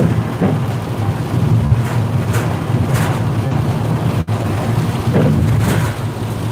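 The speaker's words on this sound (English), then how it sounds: "the rain picked up as soon as I got done" Steady heavy rain with low rumbling, likely thunder, filling the background, broadband and continuous with wind-like noise throughout and no talking.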